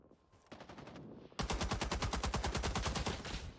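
Video game gunfire: a few scattered shots, then a rapid sustained burst of automatic fire, loud and close, with no talking.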